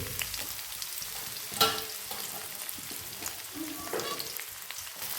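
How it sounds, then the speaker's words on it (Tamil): Fenugreek, cumin and crushed ginger garlic fry in hot oil for a Sri Lankan dish, giving a quiet, steady sizzle. A sharp clink of a spoon stands out, and brief stirring scrapes come through, with no voices. "இப்போ நாங்கள் இதில் வெந்தயம் போட்டுக்கிறோம். அதுக்கப்புறம் கொஞ்சம் சின்ன சீரகம், அதுக்கப்புறம் நாங்கள் இடித்து வச்சுருக்க இஞ்சி பூடு"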